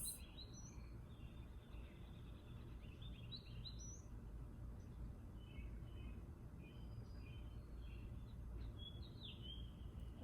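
Birds chirp faintly in an outdoor Arkansas setting, scattered short high tweets coming and going over a steady low rumble of background noise, distant and sparse throughout.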